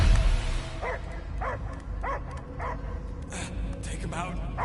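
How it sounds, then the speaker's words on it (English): Dog barking in the Guardians of the Galaxy video game: about eight evenly spaced, mid-loud barks in a steady rhythm over a constant, rumbling game background. "I hear only barking"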